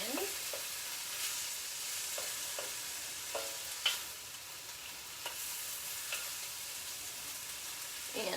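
Red onions fry over medium-high heat in a pan, giving a steady sizzle with several scraping stirs and an occasional louder clack of utensil against pan, close and without talk.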